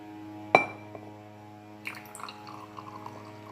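Homemade limeade goes into a cup: a sharp clink of the cup comes first, then a faint, brief trickle of pouring liquid over a low, quiet background hum.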